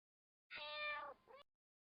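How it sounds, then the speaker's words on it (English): A single drawn-out cat meow, clear and close, rising then trailing into a shorter second note, alone against silence. "cat"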